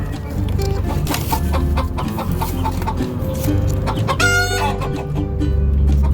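Several chickens cluck close by in an irregular, busy chorus, with a rooster's crow rising briefly partway through.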